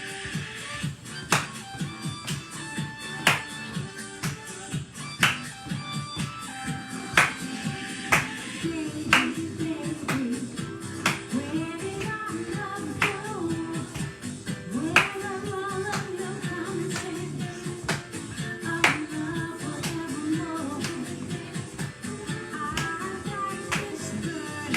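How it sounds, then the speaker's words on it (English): Hand claps in a workout routine set to 60s hits at 123 BPM: regular, sharp claps keeping time, alternating up top and behind the body, ringing out over steady background music for the whole stretch. "We're going to clap."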